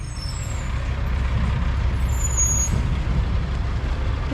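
A truck's air brake hisses over a low, steady engine rumble, close and continuous, with faint high hissing streaks.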